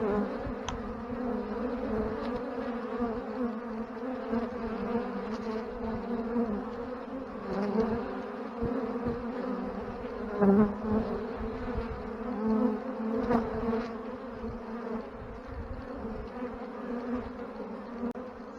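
A strong colony of honeybees hums continuously at the landing board of an Ohio hive, a dense close buzz with individual bees swelling louder as they fly past.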